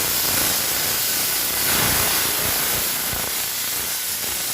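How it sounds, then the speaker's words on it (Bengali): Hot mustard oil poured over fish in a pan sets off a loud, steady, broadband sizzle up close, hissing continuously for several seconds with no talk over it. "আমার সর্ষের তেল গরম হয়ে গেছে, আমি ঢেলে দিব"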